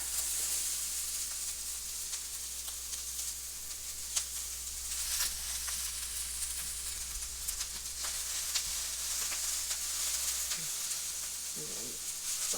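Onions sautéing in grapeseed oil in a pan, a steady soft sizzle and hiss running throughout with a few faint stirring clicks near the end.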